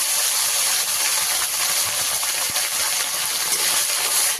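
Pieces of shital fish fry in hot oil with a steady, loud sizzling hiss that holds evenly close up throughout, with no talking.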